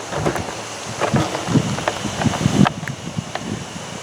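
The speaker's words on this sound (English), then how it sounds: "it ain't been raining hard, just a light sprinkle, just enough to keep us wet" Light rain sprinkles steadily outdoors, a soft broadband patter with scattered louder drops and a faint low rumble running through the whole stretch, with no voices.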